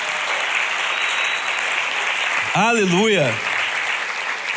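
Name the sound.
church congregation applauding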